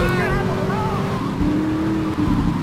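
A Stinger sports car in GTA 3 drives at speed, its engine droning as a steady rising-and-falling tone, loud and close for a couple of seconds.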